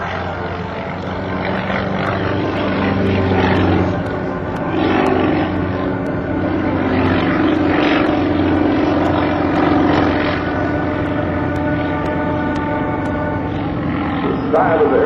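A Sukhoi SU-31 aerobatic airplane performs at an air show, its propeller engine droning loudly and shifting in pitch as it maneuvers, with an announcer's voice talking over the engine throughout.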